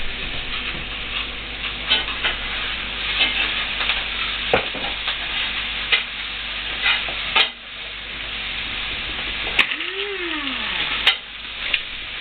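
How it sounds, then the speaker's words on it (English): Homemade ketchup stirred in a pot, a steady scraping, swishing rhythm with soft clicks and a faint bubbling sizzle underneath, close and continuous with no voices. "We'll stir that baby."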